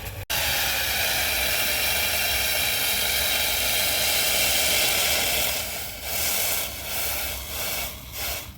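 Hot water is poured into the top chamber of a South Indian filter coffee maker, making a continuous airy hiss for about five seconds, then breaking into shorter, uneven pours toward the end.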